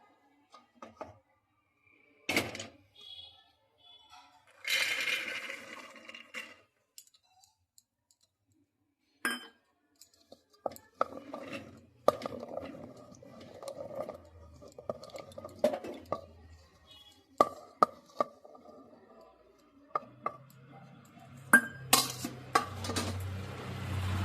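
Pot and utensils while peas, carrots and potatoes are set to boil with salt: scattered clicks, clinks of metal on metal and pan knocks, with quiet gaps and short bursts of handling, no speech.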